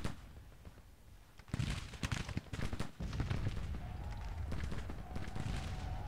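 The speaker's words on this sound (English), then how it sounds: "I can't believe this battery of artillery is standing up to that fire as long as they are." In a Grand Tactician: The Civil War battle, artillery and musket fire crack and thump in irregular bursts, with a couple of louder booms standing out over a constant rumble of distant combat.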